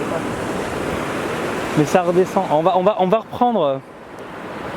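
Sea waves wash over the promenade in Salou as a loud, continuous rush of surf, and someone talks over the water for much of the stretch.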